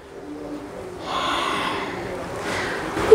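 Deep, rushing breath during a fire vinyasa yoga session, a soft hiss that swells after the first second and holds as a long airy exhale, close and fairly quiet with no talk.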